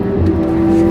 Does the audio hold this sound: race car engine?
yes